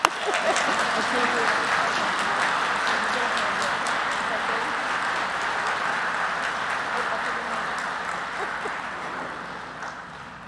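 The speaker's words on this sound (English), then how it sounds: "We should be clapping." Audience applause at a Shepherd University undergraduate convocation ceremony, a long sustained wash of many hands clapping in a large hall that holds steady and then slowly fades near the end.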